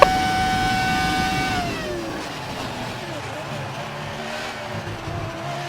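A V10 Formula 1 engine from the F1 2019 racing game revs at a high whine, then winds down and drops into a lower rumble under continuing engine noise.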